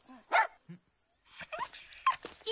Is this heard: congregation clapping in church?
no